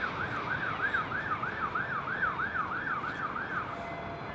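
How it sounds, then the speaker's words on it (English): An ambulance siren wails in a steady rising-and-falling cycle, somewhat distant, heard near an airport as a storm approaches, over continuous background noise with no speech. "That's an unrelated siren that I'm hearing down here. That's ambulances, I think."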